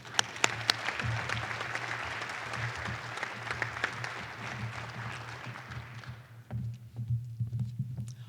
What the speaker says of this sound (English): Give her a big round of applause right now.